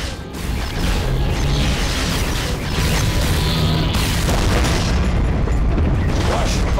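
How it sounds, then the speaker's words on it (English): Spaceship weapons fire and explosions from a sci-fi TV space battle against attacking drones: a continuous, loud wall of booming blasts and rumbling impacts that barely lets up. "They're firing."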